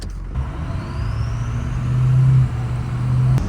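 Ford 6.0-liter Powerstroke diesel truck engine running while driving on a highway, a low, steady rumble with a drone that rises and falls slightly as the truck pulls along.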